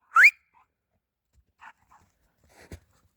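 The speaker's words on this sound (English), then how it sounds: "Why are you barking?" A dog lets out one sharp bark near a firewood pile, followed by a few faint soft whimpers and small noises in otherwise quiet surroundings.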